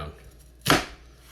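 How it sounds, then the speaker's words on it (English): A single sharp knife chop straight down through a halved onion on a cutting board, one brief crisp strike standing alone in a quiet kitchen. "You peel the onion, you cut it in half, you put it on one side, and you chop straight down"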